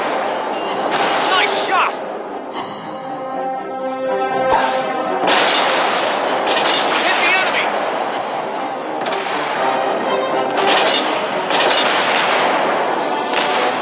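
Tirpitz battleship main guns fire in a naval video game, with heavy booming salvos and rumbling blasts in bursts over about fourteen seconds, loud and close, under game voice callouts.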